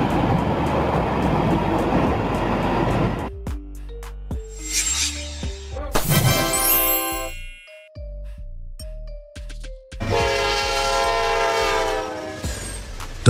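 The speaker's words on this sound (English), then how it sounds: "Subway train." A subway train rumbles loudly, then sounds its horn in several sustained tonal blasts, with a bright screeching roar of the cars passing before a last burst of rolling noise.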